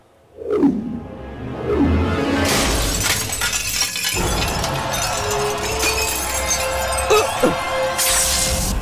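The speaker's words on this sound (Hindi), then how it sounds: "तुमने ये कांच क्यों तोड़ा?" Glass smashes in an action scene from a Hindi-dubbed South Indian film, with a sharp crash followed by sustained shattering noise and further impacts, loud and close amid dramatic sound effects.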